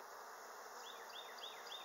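Honeybees buzzing at an apiary hive during a spring inspection: a steady, faint, close hum of many bees, with a few brief higher whines from individual bees passing by.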